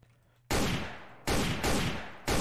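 Gunfire in a shooting video game: loud, dense bursts of shots cut in abruptly after a quiet moment, with three or four heavy volleys in quick succession.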